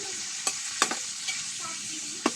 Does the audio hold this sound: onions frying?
yes